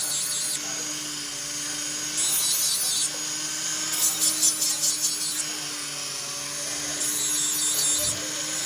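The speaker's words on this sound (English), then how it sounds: "So right here, we file. A little bit at the joint." A metal file works a ring shank at the joint in short bursts of rasping strokes, fairly close, separated by pauses, over a steady low hum in the room.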